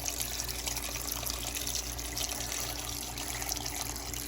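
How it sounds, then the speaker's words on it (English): Water pours steadily into a pot of crab apples, a continuous close splashing flow that fills the pot without pause. "I got the crab apples in here, and I'm going to cover them with water now"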